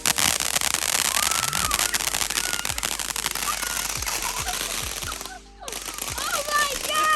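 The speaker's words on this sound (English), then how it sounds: "The whole fireworks show in a can." A consumer fireworks fountain sprays from a can outdoors, a continuous loud hissing crackle with scattered pops and whistles, briefly cutting out before resuming, with people talking and exclaiming nearby.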